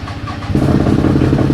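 Yerf Dog go-kart engine that had sat unused for two months in cold weather catches and runs, a rough, loud, close mechanical roar swelling after a brief quieter lead-in and holding steady.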